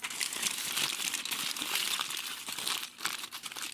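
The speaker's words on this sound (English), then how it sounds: "we're gonna wrap him up in his little foil blanket" Aluminium foil is crinkled and folded around a loaf of garlic bread, a continuous close-up rustle of crumpling foil with no voices.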